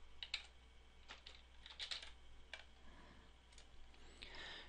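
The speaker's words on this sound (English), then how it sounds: "and typing with your keyboard." Rapid clicks of computer keys being typed on a keyboard, in short irregular bursts of taps at close range, moderately quiet over a low steady hum.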